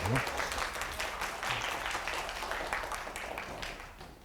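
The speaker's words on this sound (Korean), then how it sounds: "네, 박수." Steady applause from an audience at a science lecture, many hands clapping together at a moderate level for several seconds, fading slightly toward the end.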